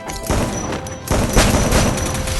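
Cover fire in a video game: dense bursts of gunfire crackle loudly in rapid succession, a brief lull then another sustained volley, close and harsh with no talk.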